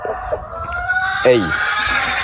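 A rooster crows once in a free-range village chicken coop, a loud rising-and-falling call close by, with hens clucking and someone talking around it.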